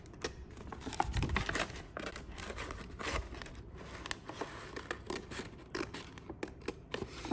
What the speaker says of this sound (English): trying your best to cut it without snipping your robot